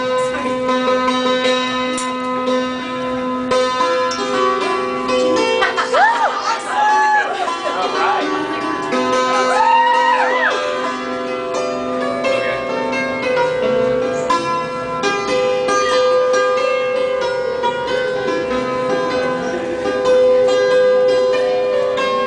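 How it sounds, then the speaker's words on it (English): A dulcimer plays Hedwig's Theme, its bright struck metallic notes ringing in a lilting melody over sustained tones, steady and fairly close throughout, with no talking. "The dulcimer sounds like this."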